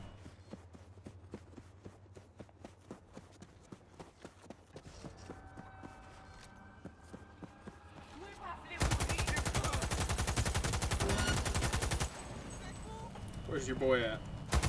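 A light machine gun fires in the video game Cyberpunk 2077 with a rapid, dense burst of shots, preceded by scattered single reports and clanks, with game sounds and a voice around it.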